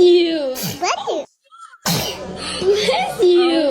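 A baby's sharp, loud sneeze bursts out between stretches of an adult's high, sing-song voice, which keeps talking close by before and after the sneeze.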